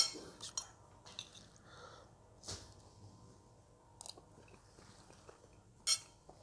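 A spoon clinks against a plate in sparse, quiet taps while someone eats squid sambal with warm rice and a boiled egg, with soft breathing between the sharper clinks.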